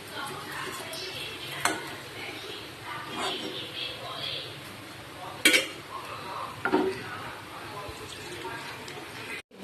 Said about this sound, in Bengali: আর এখানে দেখো আগে মশলাটা কষিয়ে নিচ্ছি